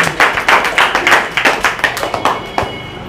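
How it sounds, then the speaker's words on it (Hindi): An audience at a school Independence Day celebration at a coaching centre claps in a rhythmic, fairly sparse pattern of distinct hand claps, close and clear for a few seconds before trailing off. "सर के लिए एक बार पुनः तालियां बजाइए आप लोग"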